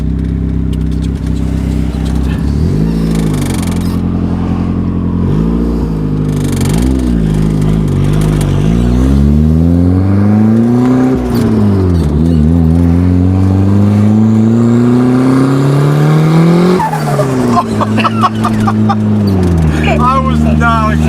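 Turbocharged Honda Civic engine revving hard and loud close up, rising and falling in repeated pulls, then a long climb and a sharp chop from the VTEC-lock limiter, with turbo flutter and people talking in the background.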